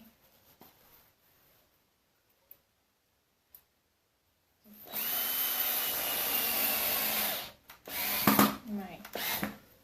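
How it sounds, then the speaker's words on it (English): A quiet start with a few faint ticks, then a cordless drill with a dying battery whirs loudly in uneven bursts driving screws into wood, slowing and straining as it stops and restarts. "Drill battery is totally dying."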